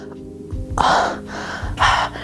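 Heavy breathing, close and loud: two sharp, forceful breaths separated by a brief pause.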